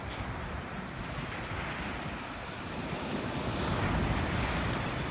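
Ocean surf rolls in steadily at Makaha Beach on Oahu on an overcast day, a continuous broadband wash of breaking waves with wind buffeting the microphone, swelling slightly louder toward the end.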